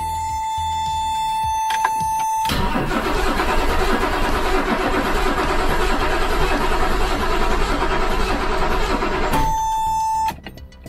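A 1984 BMW 733i with a crank-no-start problem and freshly fitted spark plugs is cranked for about eight seconds: a steady, loud starter churn that begins abruptly and cuts off, with no catch into running, and no talking.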